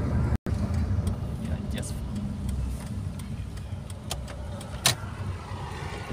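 A car driving on the road, with a steady low engine and road rumble from inside the cabin, a few light clicks and rattles, and a voice briefly speaking over it.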